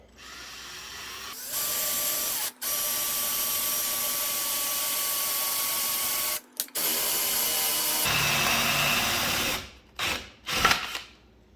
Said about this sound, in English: get your 3/4 inch piece of wood and just eyeball the center